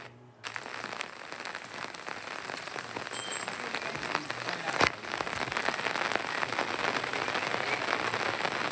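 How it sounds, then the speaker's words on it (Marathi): Heavy monsoon rain pours steadily during flooding in Wardha, Maharashtra, a dense, constant hiss of drops on surfaces that builds slightly louder toward the end, with no voices. "वर्ध्यातही पावसाचं थैमान सुरू आहे"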